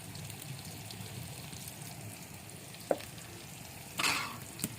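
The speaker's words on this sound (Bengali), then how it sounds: "এখন দিচ্ছি মরিচের গুঁড়া।" Chili powder and spices fry in a pan with a faint, steady sizzle, broken by a couple of brief scrapes and clinks from a spoon stirring near the end.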